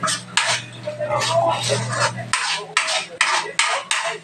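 Potatoes being mixed in a pan with a metal utensil, giving repeated scraping clinks and knocks of cutlery against cookware in a steady stirring rhythm, close and fairly loud, with a low hum under the first half.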